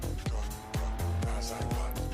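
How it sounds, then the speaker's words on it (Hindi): In the BGMI PUBG mobile game, a car skids along on a burst tyre; the engine drones steadily while rhythmic thumps and squeals repeat about four times a second, loud and close. "टायर फूटा है फिर भी भाई साहब गाड़ी स्केट कर रहे हैं।"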